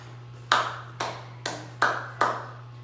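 Five sharp claps ring out at an even pace, one every half second or so, for an online class, each with a short ringing decay over a steady low hum, with no talking.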